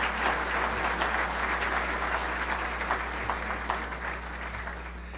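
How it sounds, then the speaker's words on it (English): An audience applauds public servants at a county state-of-the-county event, with sustained steady clapping across the whole stretch over a low constant hum. "Please give our public servants a round of applause."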